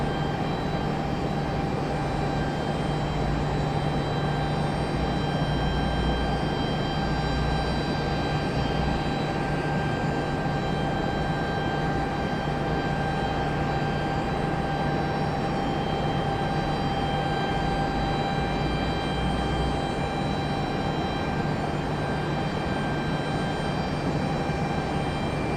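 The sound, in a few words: Southwest airliner departing at Raleigh-Durham airport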